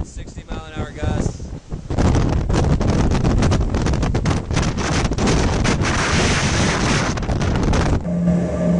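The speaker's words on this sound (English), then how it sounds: "Hurricane force winds," Strong gusting wind of hurricane force, with 50 to 60 mph gusts, roars loudly and continuously against the microphone as a steady broadband rush that cuts off abruptly near the end.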